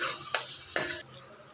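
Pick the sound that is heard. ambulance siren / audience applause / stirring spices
stirring spices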